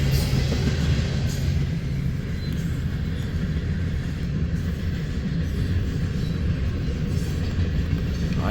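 A freight train made up mostly of DEEX cars rolls past on the tracks heading east, a loud, steady rumble and rattle of wheels holding throughout with no talk.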